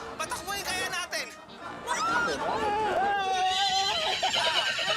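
A horse whinnies and neighs repeatedly in a comedic scene, loud and close, with rising and falling calls stretched across several seconds over background chatter.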